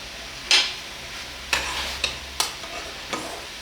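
Sesame chicken strips frying in hot oil, heard as a handful of sharp, separate crackles and spatters over a quiet background, with no talking.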